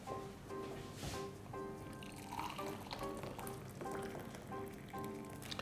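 Boiling water is poured over black tea, giving a soft liquid trickle with small drips and splashes over a steady tonal hum. It stays fairly quiet throughout, with no one talking.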